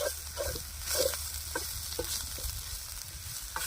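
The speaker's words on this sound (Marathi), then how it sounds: "काळा मसाला ना एखादा मिनटं परतून घ्यायचं आहे" Black masala sautés in a pan with a soft steady sizzle, broken by a few spoon scrapes in the first half, close but fairly quiet.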